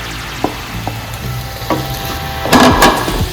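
Onion and tomato masala for an egg curry sizzling in a pan while being stirred, with steady frying hiss and a few sharp spoon scrapes and clacks, louder toward the end.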